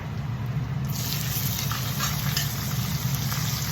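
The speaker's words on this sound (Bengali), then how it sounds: "ফোড়নটা ভাজা হয়ে গেলে এবার পেঁয়াজ দিয়ে দেবো।" Onion sizzles in hot oil for a chicken curry, a steady close hiss that swells suddenly partway through as the frying gets louder.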